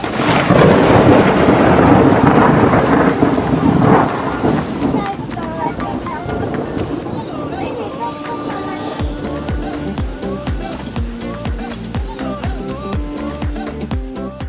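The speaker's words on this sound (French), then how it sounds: "un orage qui nous a empêchés de partir de Syracuse" A thunderstorm with rain at sea near Syracuse brings a long, loud rumble of thunder that fades into steady heavy rain, with dense patters and splashes close by.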